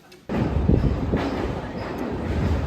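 A train carriage starts rolling with a sudden onset of loud, steady rumbling and rattling that continues close and constant, faint murmur of voices beneath.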